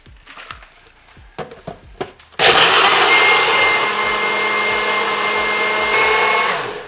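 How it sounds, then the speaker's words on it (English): A blender purees cream of mushroom soup, starting abruptly after a few soft clicks and handling noises and then running as a loud, steady whir until it stops at the end. "I'll blend it up until it is nice and creamy"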